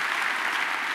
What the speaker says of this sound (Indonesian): Tepuk tangan dulu buat mereka, saudaraku.